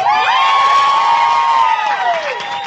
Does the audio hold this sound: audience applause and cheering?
yes